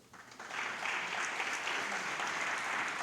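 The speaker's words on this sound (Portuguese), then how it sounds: "Dá um aplauso aí." Church congregation breaks into applause during a sermon, the clapping swelling up within the first half second and then holding as a steady, dense roar of many hands.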